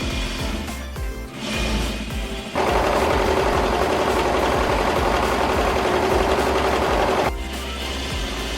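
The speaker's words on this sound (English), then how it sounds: "and it was onto some mass sewing." A sewing machine stitches costume fabric in one sustained mechanical whirring run of several seconds. A quieter motor hum and clatter come just before and after it.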